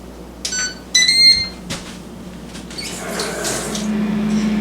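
An air fryer set to 375 degrees with an 18-minute timer gives a few short electronic beeps as the buttons are pressed, followed by the low whir of the fan starting up.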